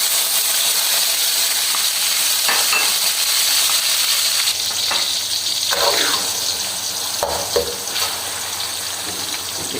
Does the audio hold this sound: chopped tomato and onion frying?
yes